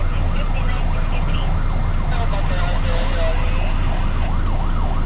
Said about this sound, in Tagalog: ayan may ambulance paano makakalusot ang ambulance nito